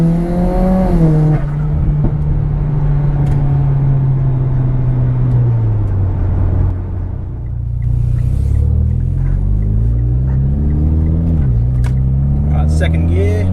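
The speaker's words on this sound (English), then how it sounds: "I'll put a few clips now of just sort of wide open throttle pulls." A Mitsubishi Evo X with a new engine makes a wide open throttle pull, the engine note rising through the revs, dipping briefly at a gear change, then climbing again, loud and close inside the cabin.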